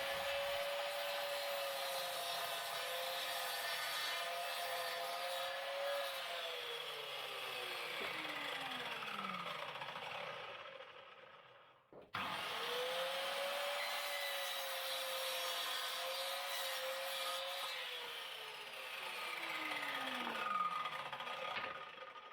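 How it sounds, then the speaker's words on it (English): A power saw cuts wood pieces to final length for a table-saw tenon jig in two separate passes. Each cut is a sustained whine that slowly drops in pitch as the blade works through, with a short break between them. "I need to cut them down to their final length"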